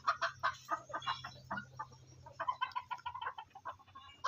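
Several chickens cluck in quick, uneven bursts inside a coop, nearby and fairly soft, with no voices.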